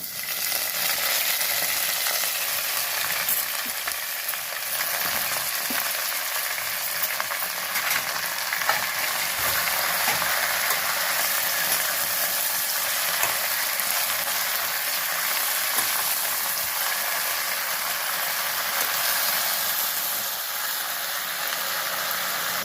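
Gongura leaves fry in a pan for gongura pulihora, giving an even, unbroken sizzle that stays close and steady throughout, with no one speaking.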